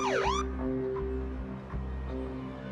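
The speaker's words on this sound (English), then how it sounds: "I hit the siren to try and get her attention." A police vehicle siren gives a quick rising and falling whoop, then cuts off, leaving a steady hum and low thuds at a rural residence.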